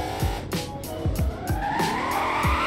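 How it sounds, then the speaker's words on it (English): A Ford Mustang drifts with the parking brake in Southwest Florida, its tires squealing and skidding in a run of repeated bursts over a steady, loud engine drone. "that was actually a good drift"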